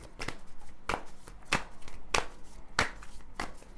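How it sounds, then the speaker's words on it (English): Tarot cards are shuffled by hand in soft, regular bursts, roughly every half second, close and fairly quiet. "So now I'm just going to shuffle these cards."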